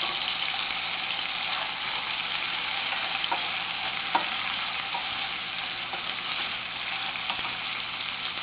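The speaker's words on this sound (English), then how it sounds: "Right away we'll add chopped garlic and ginger." Chopped garlic and ginger fry in a pan with a steady, close sizzle, broken by a few faint stirring scrapes and small pops, and no one talks.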